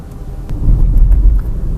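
A Wuling Binguo Lite 2025 driving in Eco Plus mode gives a short burst of low cabin rumble and road noise that swells and holds at a moderate level.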